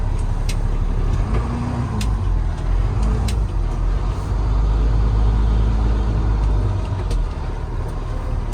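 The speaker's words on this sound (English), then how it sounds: "Exhaust brake works great, and that thing kicks in right out of the gate." 2018 Kenworth T370 truck with a PX9 350hp engine and exhaust brake engaged, a deep continuous rumbling drone with road noise and occasional clicks, steady and close throughout.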